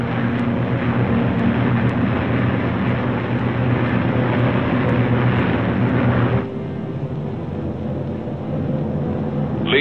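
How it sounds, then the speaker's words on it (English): Wartime B-29 bombers and P-51 Mustang fighters fly in formation, a steady dense propeller-engine roar that stays loud throughout, easing slightly partway through but continuing without pause. "The Mustangs climb in formation to take positions above the boxes of B-29s."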